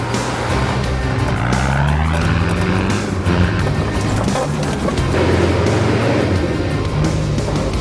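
An off-road vehicle climbs a hill country track, its engine revving up and down in loud close sweeps while tyres scrabble and crunch over rough ground.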